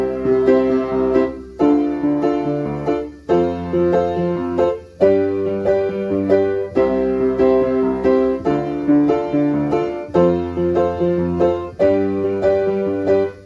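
Piano chords played in a steady rhythmic pattern, phrases repeating with brief breaks between them, clear and close with no voices.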